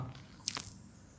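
Teeth biting into the thick rind of a mangosteen fruit, one brief squishy crunch with a small crack, close and quiet, standing alone against low room noise.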